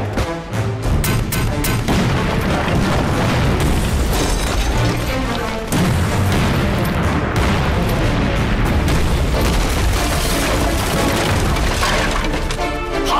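Artillery shell explosions in a war-film battle scene, a dense, continuous barrage of loud booms and blasts layered with gunfire and crashing debris, sustained at full intensity throughout.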